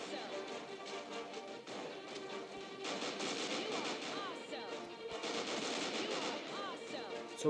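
Rapid bursts of gunfire from an Android shooting game ring out in a steady stream with short breaks, with no voices heard over them.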